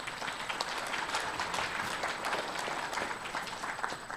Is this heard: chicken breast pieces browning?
no